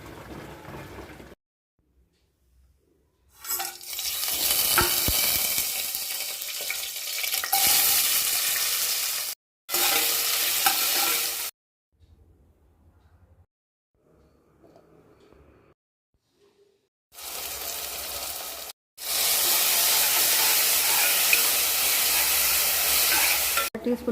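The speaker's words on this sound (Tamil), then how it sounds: "இதெல்லாம் இதில் போட்டு நல்லா வறுத்துக்கணும்." Spices and ground masala (turmeric, chilli powder, garam masala, coriander powder) sizzle hard in a pan for Tamil-style egg gravy, in loud bursts of frying broken by several silent gaps.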